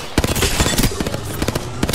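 Grenade blast in a first-person shooter video game, a burst of loud crackling impacts and rumbling explosions filling the whole moment, with rapid gunfire-like pops layered through it.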